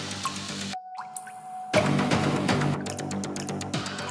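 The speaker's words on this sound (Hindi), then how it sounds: "बाथरूम से पानी टपकने की आवाज आ रही थी," Water dripping in a bathroom at night, single drops and a squishy plop over a dark hum, with brief silence midway before a denser wet clatter.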